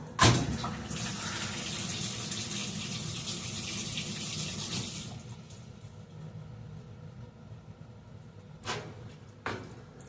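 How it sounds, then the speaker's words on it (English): Whirlpool washing machine filling, a soft continuous rush of water streaming into the drum that gradually quietens, with a couple of faint clunks near the end. "After 4 or 5 times of opening it, it started adding a lot more water."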